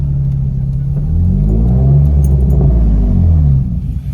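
A Nissan 350Z roadster with a full tube exhaust drives past loud and close, its engine rumbling deep and swelling through a couple of throttle rises before easing off.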